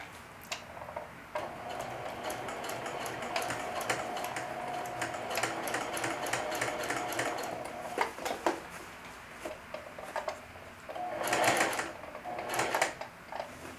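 A sewing machine stitches along a seam in cloth, with brief stops where the needle stays down and the foot is raised to pivot. Close, rapid ticking clicks run in bursts, with a louder flurry near the end.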